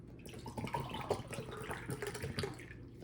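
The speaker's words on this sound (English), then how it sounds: "we're gonna take one of the water bottles and we're gonna pour it into a cup" Water pours from a plastic water bottle into a cup, a steady close-up splashing and trickling stream lasting about three seconds with no talk.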